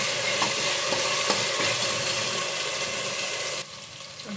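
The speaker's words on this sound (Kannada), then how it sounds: "ಹಸಿ ಸ್ಮೆಲ್ ಹೋಗೋವರೆಗೂ ಸ್ವಲ್ಪ ಫ್ರೈ ಮಾಡ್ಕೊಳ್ಳಿ" Ginger garlic paste fries with onion in a pan, giving a loud, dense sizzle with a few light stirring clicks early on; the sizzle drops noticeably quieter near the end.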